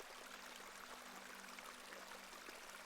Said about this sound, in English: This is a lovely little beck. It's where we get our water, miss.